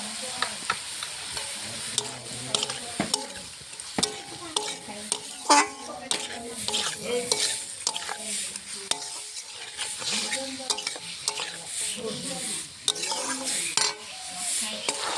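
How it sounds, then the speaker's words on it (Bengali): Vegetable chorchori frying in oil in a pan, with a steady sizzle and frequent stirring scrapes and clinks of a spoon against the pan, close and continuous throughout. "চচ্চড়িটা হচ্ছে তেলে ভাজা হয়ে যাবে চচ্চড়িটা"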